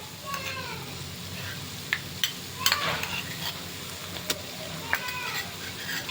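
Ginger garlic paste and turmeric frying in a pan for chicken biryani make a soft sizzle, broken by sharp clinks and scrapes of a spoon as it is stirred.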